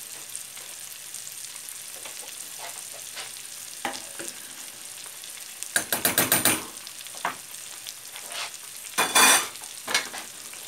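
Chopped vegetables frying in a pan for lentil soup, a low steady sizzle with occasional stirring scrapes and two brief louder clattering bursts, close by.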